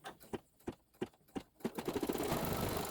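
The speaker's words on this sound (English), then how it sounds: "go ahead and sew this down" A sewing machine stitches down a quilt block piece: several separate short bursts of needle clatter, then a steady run of stitching that builds and continues, close and fairly quiet.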